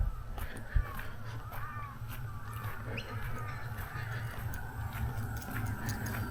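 Birds call outdoors at a family farm, scattered crow-like caws and chirps at a moderate distance over a low, steady background hum, with a faint voice now and then.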